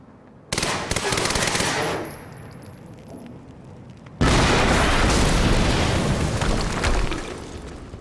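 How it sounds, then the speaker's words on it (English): Gunfire and a large explosion in the video game Quantum Break: a loud burst of shots fades away, then a sudden heavy blast erupts and rumbles on for several seconds, with no speech. "HQ, we just heard an explosion near the harvesting perimeter."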